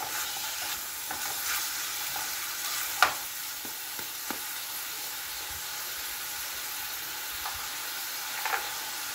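Ground pork and eggplant being stirred in a frying pan, a steady sizzle and hiss broken by scattered scrapes and clacks of the utensil against the pan.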